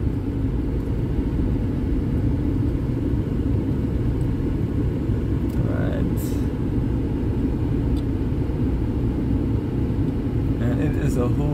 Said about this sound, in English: A whole lot of traffic.